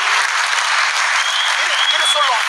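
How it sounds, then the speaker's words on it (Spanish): A television studio audience in Santiago, Chile breaks into loud, sustained applause, a thick wash of clapping that holds steady throughout, with a faint whistle near the end. "un fuerte aplauso para ustedes"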